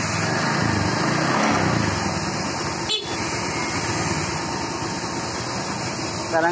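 A Honda Beat scooter engine idling at close range, a steady light buzzing hum that stops briefly near the middle and then carries on as a quieter drone.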